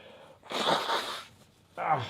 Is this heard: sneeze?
yes